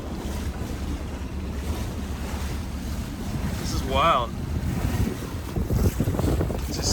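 A sailboat heading out on the Chesapeake toward the Atlantic moves through choppy water, with constant wind rush buffeting the microphone and waves slapping the hull; someone speaks briefly near the middle.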